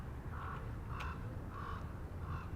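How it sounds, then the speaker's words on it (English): A raven calls loudly outdoors, four evenly spaced harsh croaking caws over steady background noise, fairly close and distinct. "What a loud raven, huh?"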